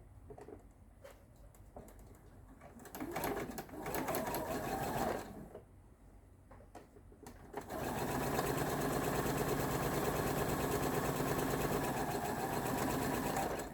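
A sewing machine stitches a quarter-inch seam on a quilted kite block, its motor buzzing in short runs with pauses before settling into a long steady whir, close and with no talking.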